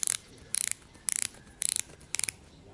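BOA lacing dial on a Santic York cycling shoe ratcheting in five quick bursts of rapid clicks, each a short run of sharp ticks separated by brief pauses, close and fairly quiet.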